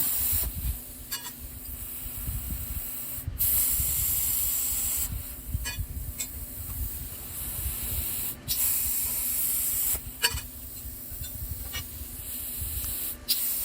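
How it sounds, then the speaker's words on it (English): Circle burner torch cutting pre-scored steel plate for a Santa Maria grill handle mount, a steady loud roaring hiss throughout with brief sharp pops and bursts of sparking crackle now and then. "And then using the circle burner to get them out."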